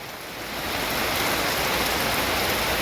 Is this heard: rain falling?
yes